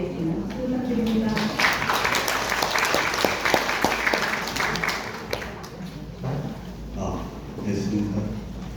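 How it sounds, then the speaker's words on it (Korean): Lecture audience at a university social-enterprise talk in Daegu applauds after the speaker's introduction, a steady roomful of clapping with sharp individual claps, mixed with murmurs and a voice in the room. "박수 부탁드립니다."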